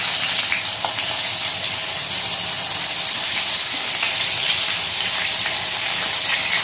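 Brinjal pieces frying in hot oil alongside already fried rohu fish, giving a loud, steady, close sizzle with faint stirring clicks and no voices.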